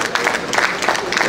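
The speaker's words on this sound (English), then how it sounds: "let's give a round of applause for our children." An audience at a community convention claps steadily and enthusiastically, a dense close wash of applause filling the short span with faint crowd noise and no clear speech.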